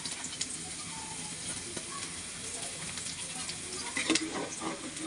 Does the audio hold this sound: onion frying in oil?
yes